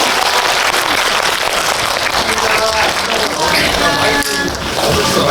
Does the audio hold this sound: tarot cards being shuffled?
no